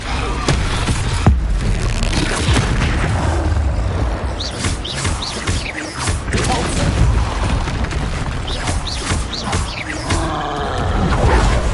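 Repeated Expelliarmus spell casts in Hogwarts Legacy, arriving as dense, continuous combat bursts and booms with whooshing magic effects layered throughout, loud and busy from start to finish.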